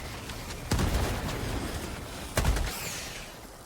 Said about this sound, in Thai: ปาระเบิดไปแล้ว